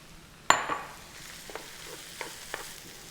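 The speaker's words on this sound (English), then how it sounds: "Okay, time to add those mushrooms." Mushrooms hit a hot pan with a sharp sizzling clatter, followed by a quiet steady fry and a few soft stirring scrapes, in a beef stroganoff dish.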